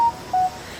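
A mobile phone gives two short electronic tones, one brief beep and then a slightly longer one, clear over quiet outdoor background on a nature trail at Fanshawe Conservation Area in London, Ontario.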